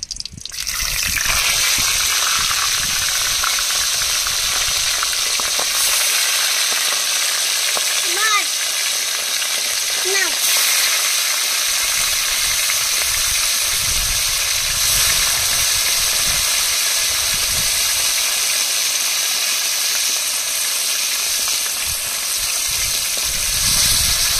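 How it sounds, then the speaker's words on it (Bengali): A fish head frying in hot mustard oil in a wok, a loud, steady sizzle and hiss that carries on without a break, with a brief spatter or two. "তেলের মধ্যে প্রথমে দিয়ে দেবো মাছের মুড়ো।"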